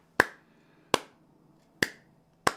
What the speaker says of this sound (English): If I clap